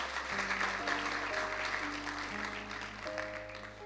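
A church congregation claps during a sermon, moderate steady applause mixed with sustained keyboard or organ notes that shift pitch in the background, the clapping fading slightly toward the end.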